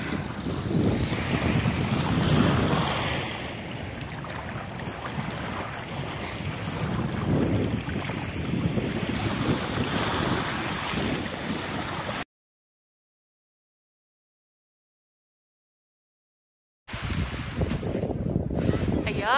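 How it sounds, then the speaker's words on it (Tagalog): Ocean waves heard from a boat on a cold day wash and surge constantly under heavy wind buffeting the microphone, with a silent break before the roar resumes. "Lumalakas ang alon."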